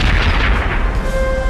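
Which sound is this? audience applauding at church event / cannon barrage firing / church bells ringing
cannon barrage firing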